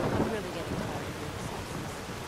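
Steady rain in the video game Skyrim, a soft continuous hiss with low rumbling texture that holds evenly throughout, loudest at the start and never letting up.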